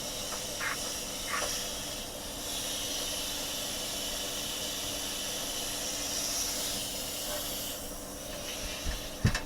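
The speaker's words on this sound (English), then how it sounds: "Now painting the base in the electrostatic magic gloss black" An electrostatic powder coating gun spraying gloss black powder onto a Dinky Volkswagen Beetle base, giving a continuous airy hiss with faint mechanical whine and a few small knocks at the end.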